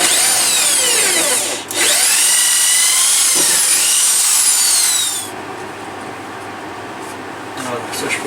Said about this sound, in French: Je vais faire les avant-trous là pour mettre les vis pour tenir les supports après.